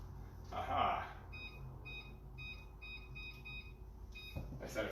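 A kitchen timer gives a run of quick, high, paired beeps close by, while faint background noise hums underneath.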